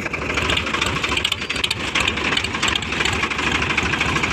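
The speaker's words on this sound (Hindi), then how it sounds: "ले तो चलते हैं ट्रैक्टर को" A Sonalika tractor engine runs steadily at a low, even idle, a continuous rumbling chug with a faint knocking texture that holds unbroken at moderate loudness throughout.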